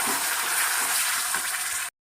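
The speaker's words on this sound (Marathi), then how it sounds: "मसाल्यावरती ग्रेव्ही आपल्याला व्यवस्थित परतून घ्यायची आहे" Loud, dense sizzling as ground gravy is sautéed over spices in a hot pan, steady and unbroken for about two seconds before cutting off abruptly.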